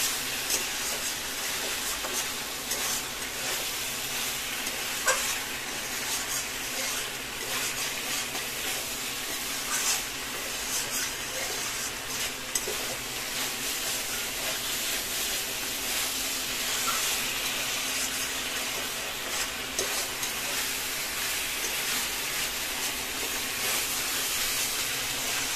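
Young ash gourd and prawns cooking down with spices in a pan give a steady, even sizzling hiss that runs unbroken from start to finish, with faint stirring underneath and no voices.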